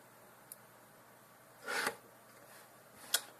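A screwdriver drives a screw back into a PlayStation 2 motherboard, giving one short, close rasping twist in the middle, with a few faint ticks before and after in an otherwise quiet room.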